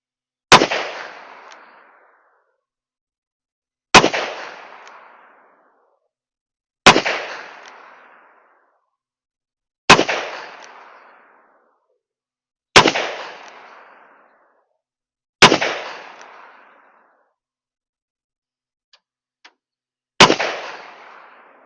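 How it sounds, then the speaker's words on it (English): Seven sharp reports from a Taurus Model 66 revolver with a 4-inch barrel firing .38 Special at an outdoor range, each crack evenly spaced about three seconds apart and trailing a long echoing decay. "let's see if I can put some hits on that right side target there with the 4-inch"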